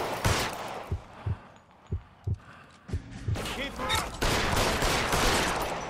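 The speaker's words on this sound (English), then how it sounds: "is this the Brit down there shooting at me, or are there just more mob guys all of a sudden?" Gunfire in the video game L.A. Noire during a mob shootout, with a series of sharp, separate shots spaced about every half second, then a denser, noisier burst of action with people talking over it.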